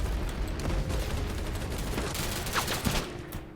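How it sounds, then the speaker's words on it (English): Distant sniper fire in the game BattleBit Remastered, a dense, continuous rattle of far-off gunshots and battlefield noise with a few sharper cracks, and no talking. "Hear a lot of sniper fire in the distance"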